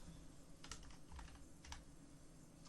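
Fingers type on a computer keyboard in a quiet room, a short irregular burst of soft clicks and taps close up.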